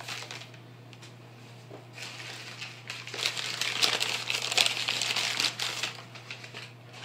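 Covington sweet potato seed tubers being unwrapped from their wrapping, with steady papery crinkling and rustling up close that swells louder through the middle and then eases off, with no talking.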